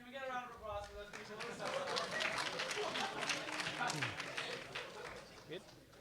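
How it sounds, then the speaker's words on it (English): An audience at a hackathon final demos event applauds, a dense wash of clapping with scattered voices and chatter mixed in, steady and fairly loud for several seconds before thinning out. "Can we get a round of applause for those people?"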